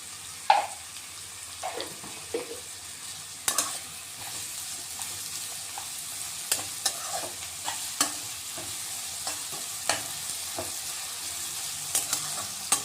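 Onions with salt being sautéed in a spiced oil tempering for Maharashtrian kanda poha, with soft steady sizzling and repeated scraping stirs of a spoon against the pan.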